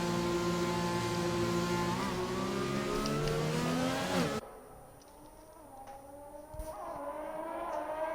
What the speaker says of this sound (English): Here we are on board with Coder as he is the first to depart.